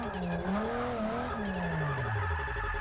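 Car drifting in Forza 6 on a Logitech G920 wheel, a loud continuous tire squeal with a long e-brake slide, pitch bending and sliding downward over an engine roar, with no voices.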